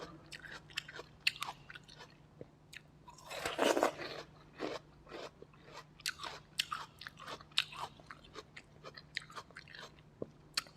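Crisp, crunchy bites and chewing of sweet, cold snow lotus, close to the mouth, with repeated sharp crunches in irregular rhythm and a louder burst of chewing near the start, no talk.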